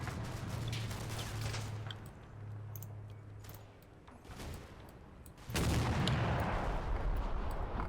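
MG42 machine gun fire in the war game Combat Mission crackles in distant rapid bursts over a low rumble, then a louder, denser barrage of gunfire takes over toward the end.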